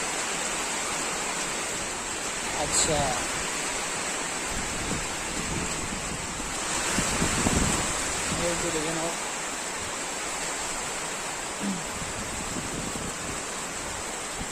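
Heavy rain pours steadily outside on a stormy night during a power cut, a constant dense hiss with faint rumbles rising at moments, while people talk quietly nearby.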